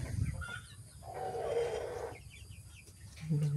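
Chickens in a backyard pen where guinea pigs are also kept cluck and call at moderate distance, with a sustained squawk in the middle and rustling farmyard noise throughout.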